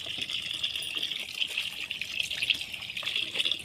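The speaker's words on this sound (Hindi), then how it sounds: "यहाँ पर मैं नल खोल लेती हूँ, फिर इस तरह से अच्छे से मैं धो लूँगी" Water runs from a kitchen tap while okra is washed under it, a steady close splashing gush with uneven spatters, no voices.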